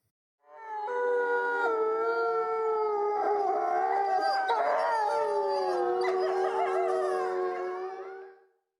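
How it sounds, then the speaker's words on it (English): Several wolves and wolf-dog hybrids howl together in a long chorus, layered rising and falling tones that overlap and waver for about eight seconds, clear and fairly near against silence. "These are the sounds of wolves and wolf dog hybrids howling"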